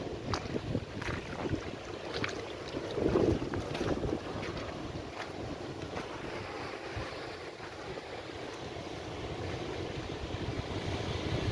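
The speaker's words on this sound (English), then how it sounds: "So this is the river, the mouth of the river now, where the water empties into" Water from the river flows out at its mouth on the east coast of Barbados, a broad rushing wash mixed with surf and strong wind buffeting the microphone, steady throughout.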